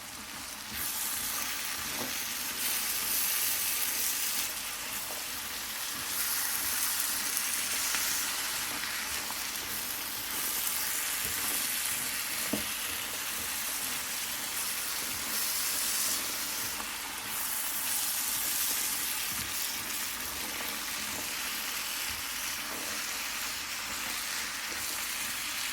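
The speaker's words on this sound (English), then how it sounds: "another quick mix before frying for an additional 5 minutes" Chana with salt and spices frying in a pan, giving a steady sizzling hiss that runs throughout, with a few soft clinks as it is stirred and no talking.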